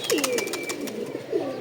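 Pigeons coo close by, two soft throaty coos a second apart, with fluttering wingbeats and rustling in between on a rooftop.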